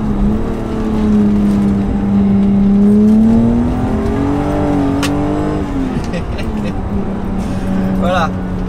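A BMW M5 E28 saloon accelerates hard, its engine note climbing steadily in pitch and easing back, loud and close from inside the car, with someone talking over it throughout.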